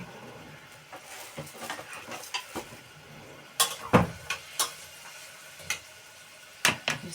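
Chopped onion sautéing in a pan with salt, giving a soft steady sizzle broken by sharp clinks and scrapes of a utensil stirring against the pan, loudest in a few clustered knocks near the end, with no talk.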